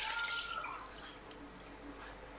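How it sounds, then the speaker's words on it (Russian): Half a litre of water is poured from a measuring cup into an Esbit CS585HA cook pot, a soft trickling and splashing that tapers off into faint drips, quiet and close. "Я ее заливаю в посуду."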